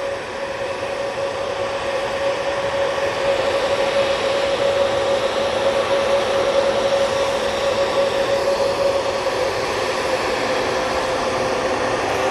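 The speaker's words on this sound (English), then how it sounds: "there's that noisy A320 Neo with those Pratt & Whitney plants" An Airbus A320neo with Pratt & Whitney engines roars past at Manchester Airport, a loud steady broadband jet rush with a distinct sustained whine, swelling slightly and holding for several seconds.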